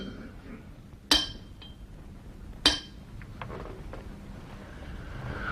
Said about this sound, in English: I can chip away some of these deposits, we can see what it's made of